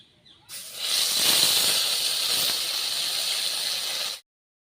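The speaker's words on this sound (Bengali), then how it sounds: "ওই তেলের মধ্যে দিয়ে দিচ্ছি এই যে পেস্ট করে রেখেছিলাম মশলাটা দিয়ে দিচ্ছি" Spice paste hits hot oil with small fish and sets off a loud, continuous sizzling hiss. The hiss starts abruptly, holds steady for about four seconds, then cuts off.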